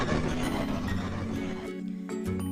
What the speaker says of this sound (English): We also have the game start sound effect,